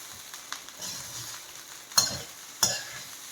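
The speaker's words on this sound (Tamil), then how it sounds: "இந்த மாதிரி கிளறி கொடுங்க." Chicken fried rice stirred in a pan, street style, with a steady sizzle under scraping strokes and two sharp clinks of the utensil against the pan.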